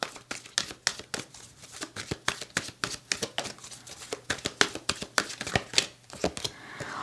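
Tarot cards are shuffled close up in a run of crisp, rhythmic riffles and flicks that repeat steadily, with nothing else in the background.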